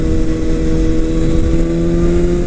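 A 2018 BMW S1000RR sport motorcycle's Akrapovic exhaust drones loud and close, revving steadily with a throaty, buzzing tone throughout and no voices.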